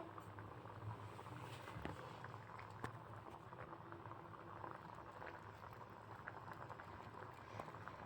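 Curry gravy for a Surat-style cheese paneer gotalo boils in a pot, giving a steady, continuous bubbling and popping that stays close and even throughout with no voices.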